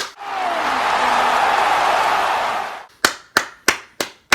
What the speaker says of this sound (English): We're going to continue clapping.